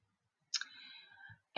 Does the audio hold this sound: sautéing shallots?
no